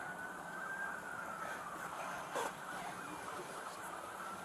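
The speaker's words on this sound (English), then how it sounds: "That's an ambulance." Ambulance siren passing outside a bank, faint and distant: a thin, steady wail rising and falling over a quiet background hum, with no talk.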